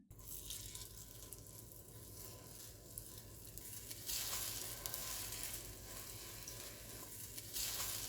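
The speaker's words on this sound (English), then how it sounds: "Keep an eye on the frying process as it might burn quickly." Egg-soaked bread sizzles in hot fat in a pan over very low heat, with a continuous crackling fry that swells slightly partway through, close and steady with no talking.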